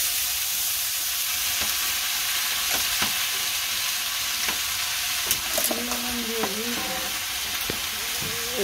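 Pumpkin frying in a pan with blackened cumin: a loud, continuous sizzle with scattered scraping and stirring clicks close by, and a brief murmur of voices under the frying.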